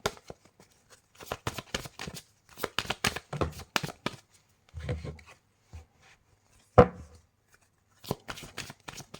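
Tarot cards being shuffled by hand, close and fairly quiet: bursts of riffling and rubbing come in irregular clusters, with brief pauses between and one sharper slap of the deck, no talking.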